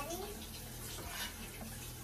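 A child splashes and plays with water at a kitchen sink during pasta cooking, producing a steady, close rush of running water with no other clear sounds.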